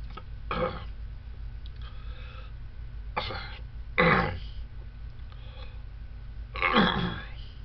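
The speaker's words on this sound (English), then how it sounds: "Stomach hurts. I got a burp." A man with a stomach ache lets out several short, low burps spaced a few seconds apart, close to the microphone but fairly quiet, over a steady background hum with no talking.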